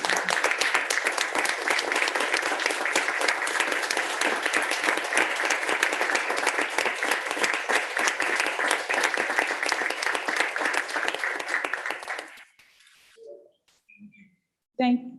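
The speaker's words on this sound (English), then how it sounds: "please join me in giving a round of applause to our community partners" Sustained applause from an audience at a school board meeting, loud and steady for about twelve seconds before cutting off abruptly, followed by a few faint voices.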